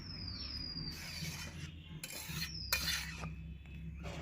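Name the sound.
lid being put on pot of boiling banana flower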